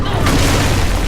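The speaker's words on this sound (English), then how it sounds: "Ranged attack that inflicts magical exploding fire damage" A magical exploding fire ranged attack from the video game Earthlock bursts out as a loud, dense boom that fills about a second, sharpening slightly after its onset.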